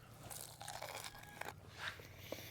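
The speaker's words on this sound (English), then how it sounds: "I love that crunch." Charcoal-grilled pork ribs are bitten into, giving a few faint, brief crunchy bites and chewing sounds close up, with no talking.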